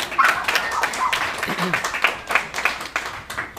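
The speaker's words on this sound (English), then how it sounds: "Round of applause for being here tonight." A crowd claps steadily in sustained applause, with a voice briefly audible over it.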